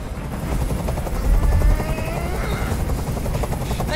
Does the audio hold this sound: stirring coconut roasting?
no